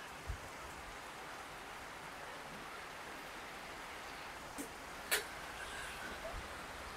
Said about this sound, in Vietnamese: Mưa to quá anh em ơi.